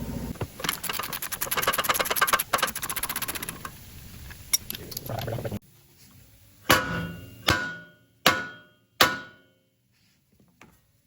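Hammer strikes knock an upper ball joint out of the steering knuckle on a 2022 Ram 1500: a fast burst of metallic blows, then four loud, separate ringing hits that decay between strikes.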